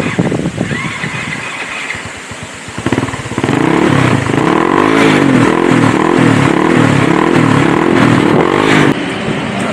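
Motorcycle engine running close by, idling with a rough low throb before revving up into a steady, loud, rhythmic drone that holds to the end.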